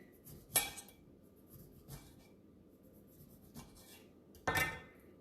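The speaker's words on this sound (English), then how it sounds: "I'm going to take my lime and I'm just going to slice it into fairly thin slices" A knife cuts a lime into thin slices on a board, quiet scraping under a soft background, marked by two sharp louder chops near the start and end with fainter cuts between.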